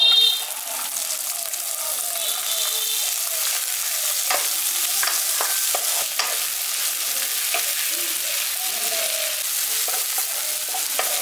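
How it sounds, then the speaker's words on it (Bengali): Chopped onion frying with cumin seeds in hot oil for a village-style brinjal potato masala gives a loud, steady sizzle with scattered stirring clicks throughout. "এবার এই পেঁয়াজ কুচনোটা দিয়ে দিচ্ছি।"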